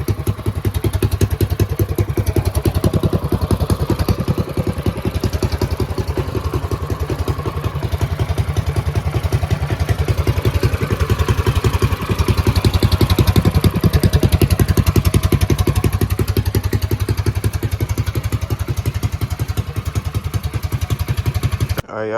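A Mega Moto 212 minibike exhaust, without a trumpet tip, idles steadily with a loping, throbbing rumble and light mechanical clatter, close and continuous throughout.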